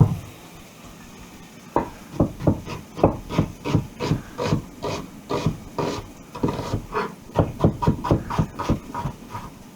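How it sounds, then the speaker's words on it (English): Chicken livers are chopped with a knife on a wooden board, a close series of steady, rhythmic thuds with a short pause partway through. "chop it up any old way"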